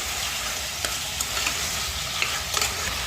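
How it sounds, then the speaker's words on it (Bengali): Chicken stir-fried in a pan sizzles steadily up close, broken by a few sharp scrapes and clinks of the spatula against the pan. "একটু মাংসটা ভাজা ভাজা করে সবজিগুলো তুলে দেবো।"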